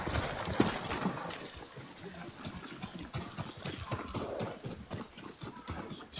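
A horse in the Ghost of Tsushima video game clip-clops along at a steady walk, hoofbeats close and clear under a quiet ambient game soundscape with faint background noise.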